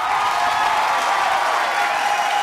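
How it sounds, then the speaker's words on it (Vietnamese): A television studio audience claps steadily, a dense, even wash of applause close and loud throughout. "đã xứng đáng để anh được nhận một tràng vỗ tay thật lớn từ phía quý vị"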